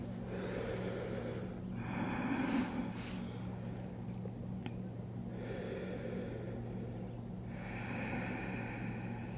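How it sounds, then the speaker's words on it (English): Slow, deep yoga breaths in child's pose beside Onota Lake, with several long inhale-exhale swells spaced a few seconds apart over a steady low outdoor hum. "I'm going to take a couple of breaths there."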